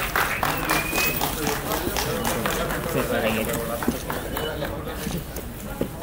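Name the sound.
audience applause at a film launch event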